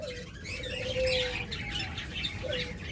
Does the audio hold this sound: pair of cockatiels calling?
yes